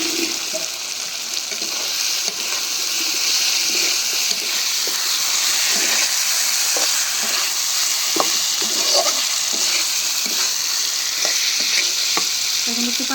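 Eggs and roasted ground spices such as coriander and cumin frying in a pan for egg bhuna: a loud, steady sizzle with repeated scraping strokes of a spoon stirring throughout, and no talk.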